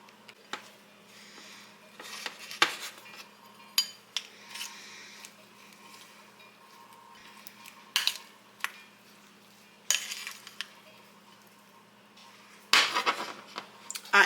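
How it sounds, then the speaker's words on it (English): A spoon stirs a grilled cheese mixture in a bowl, making scattered clinks and scraping bursts with quiet gaps between them and a louder flurry near the end. "Let's get that stirred up."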